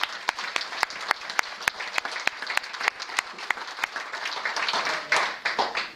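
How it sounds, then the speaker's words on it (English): Applause from an audience at the Rotary Club of Wellington Social Enterprise Kickstart Awards 2018, many hands clapping in a dense, steady ovation with sharp individual claps standing out, lasting the whole stretch. "just a round of applause for everybody"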